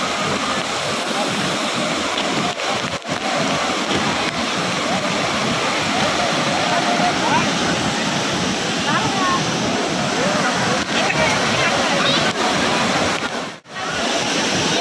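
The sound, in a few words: waterfall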